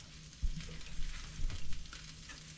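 Bacon, peppers and onions frying in a skillet with bacon drippings give off a close, steady sizzle, broken by a few louder crackles and stirring bumps; nobody speaks.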